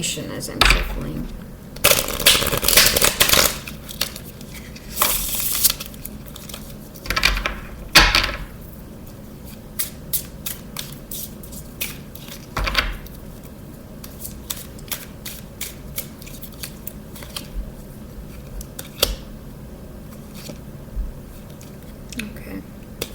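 Tarot cards being shuffled and riffled in bursts of papery flutter and soft slaps, close by, with quiet pauses between shuffles.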